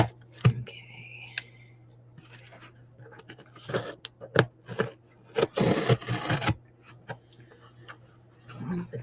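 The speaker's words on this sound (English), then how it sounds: "I just don't want to cut into the books as I use scissors to open the box" Scissors snip and slice through a cardboard box of books, producing close, uneven bursts of clicking and scraping cuts separated by short pauses.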